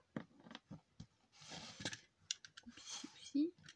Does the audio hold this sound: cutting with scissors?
yes